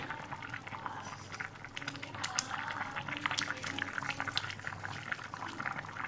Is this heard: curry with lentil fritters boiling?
yes